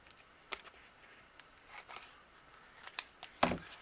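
Scissors trim a piece of craft foam in a quiet room, giving several soft, separate snips spread over a few seconds, with a sharper, louder cut near the end.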